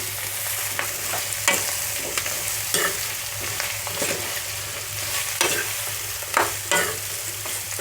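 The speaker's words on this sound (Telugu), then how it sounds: "సన్నగా కట్ చేసి పెట్టుకున్న క్యారెట్ ఒకసారి అన్నీ కలుపుదాము" Cucumber, carrot and capsicum curry sizzles steadily in a pan while a spoon stirs and scrapes in a repeated rhythm, close and fairly loud, with no voices.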